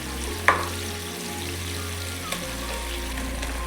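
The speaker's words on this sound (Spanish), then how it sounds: "Lo vamos a freír un poquito." Torn bread pieces frying in a pan with oil and garlic for Spanish garlic soup, a steady soft sizzle with a faint clink near the start and a low hum underneath.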